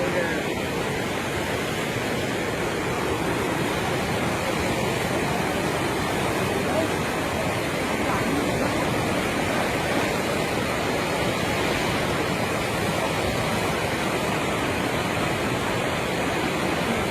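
The swollen, fast-flowing Mechi river gives a continuous broad roar of rushing water, steady and loud throughout with no pauses.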